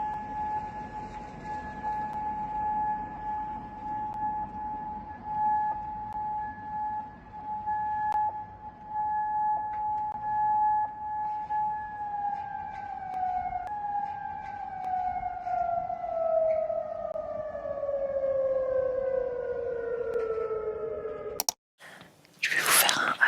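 An air raid siren in Kuwait at night holds a steady, far-off wailing tone, then slowly drops in pitch before a sudden burst of nearby noise at the end.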